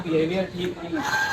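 Turkeys call near peacocks in a backyard enclosure, with short clucking and gobbling bursts layered under close talking.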